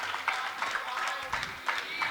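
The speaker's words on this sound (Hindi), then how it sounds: "सतना के शांतिनाथ भगवान कहने से एक अलग ताली और बज जाती है।" Audience applause breaks out during a Jain religious sermon (pravachan) in India: a steady patter of many hands clapping, fairly even in loudness, with voices mixed in.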